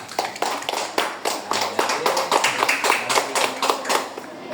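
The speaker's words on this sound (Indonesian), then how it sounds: "kasih tepuk tangan dulu temannya" Students in a classroom coding lesson clap for their classmates, a fairly close, rhythmic patter of hands from a small group, with slight unevenness between claps.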